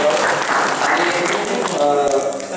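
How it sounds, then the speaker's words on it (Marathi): Audience applause at an inauguration ceremony of a Warkari education institute in Asangaon, a steady dense clapping that fills the whole moment, with voices mixed in beneath it. "आपण पुन्हा एकदा सर्वांनी टाळ्या वाजवून"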